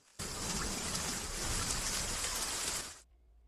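Heavy rain falls at a festival flag-raising celebration in an action film, a dense, even hiss that starts abruptly, holds for about three seconds and then cuts off to near silence.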